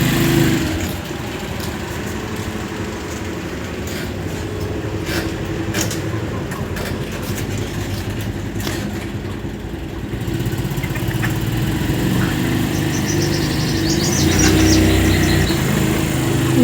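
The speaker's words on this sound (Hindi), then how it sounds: "ये साहब गाड़ी निकाल रहे हैं।" A car engine idling and running steadily as the vehicle is driven out from a house, a moderate mid-pitched drone over several seconds that swells slightly toward the end, with a person talking over it.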